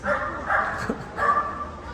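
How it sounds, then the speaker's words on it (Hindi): A dog barks outdoors in the UK, giving a couple of close yipping barks with a short whimper between them. "कुत्ते भौंकते हैं तो कुत्तों के साथ कुत्ते नहीं बनते, उसका काम है भौंकना"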